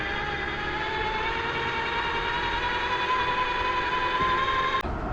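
An RC trail truck with overdrive runs on hard asphalt, a continuous high electric motor and gear whine holding steady and near, ending in a brief sharp click.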